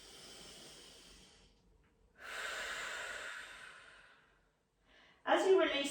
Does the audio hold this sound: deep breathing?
yes